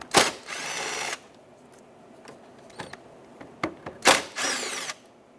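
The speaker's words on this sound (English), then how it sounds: "held on with two 7mm bolts." A hand tool works on the two 7mm bolts holding the PCV heater on a Ford F250 Super Duty 5.4L V8. Two longer buzzing bursts are heard near and fairly loud, with a few short clicks and taps between them.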